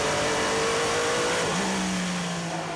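The number 8 Toyota race car passes at speed with a loud, sustained engine drone whose pitch drops as it goes by.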